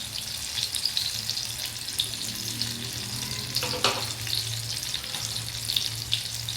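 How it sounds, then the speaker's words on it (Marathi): Mixed lentil vadas and mixed vegetable fritters frying in a pan give off a steady, close sizzle that runs unbroken throughout, with a brief bubbling flare near the middle. "बघा किती छान असे फ्राय झालेले आहेत"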